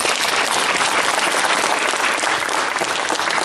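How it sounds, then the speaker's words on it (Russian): A congress audience breaks into loud, dense applause that holds steady and continuous throughout, with no voices rising above the clapping. "прошу съезд, если вы согласны с позицией Ростовской опоры, поддержать меня аплодисментами"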